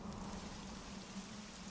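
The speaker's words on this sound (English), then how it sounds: "we need a doozy of a downpour to make up for it is all" A heavy cartoon downpour of rain pours down as a steady, dense hiss. It is brief and fairly faint, an even wash of falling water with no voices over it.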